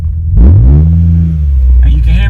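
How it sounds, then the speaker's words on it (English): A manual-transmission car engine revs while shifting into reverse, a loud close rumble rising and holding, with someone talking over it. "And you can hear me going into reverse. I just revved it up so you can hear that."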